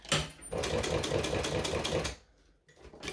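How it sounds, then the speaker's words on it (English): Sewing machine stitching a handmade strap, a fast steady mechanical rattle of needle strokes running close and loud for about two seconds, then stopping briefly before restarting more quietly. "But I've essentially done 16 minutes of just sewing."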